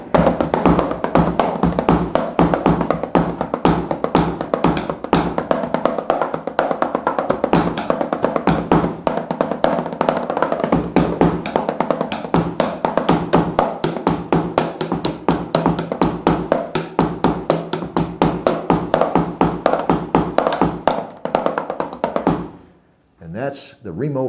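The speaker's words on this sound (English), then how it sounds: "other than the tick-tick sounds it makes, it really doesn't make any noise" Bass drum and hi-hat pedals tap on a Remo practice pad in a rapid, steady stream of dry ticks and thuds, close and loud, then stop abruptly near the end.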